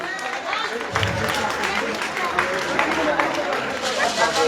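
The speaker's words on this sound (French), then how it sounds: "Des applaudissements pour le prince de l'Ouest." Carnival crowd applauds the Prince of the West in Saint-Laurent-du-Maroni, a dense, continuous wash of clapping and cheering that swells after the first second and stays lively to the end.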